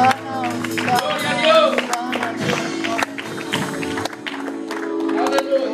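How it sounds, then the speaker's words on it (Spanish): A Pentecostal church congregation claps along during worship in a loud hall, with sharp hand claps mixed beneath strong singing and talking voices. "Dele palmas al Señor"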